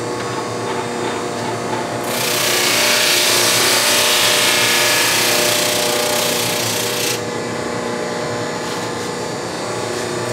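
Ukulele wood is lightly sanded with sandpaper on a slowly running tool, a continuous hiss and whir that grows brighter and louder for a few seconds in the middle before easing back.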